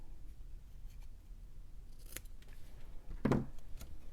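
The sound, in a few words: scissors snipping cardstock diagonally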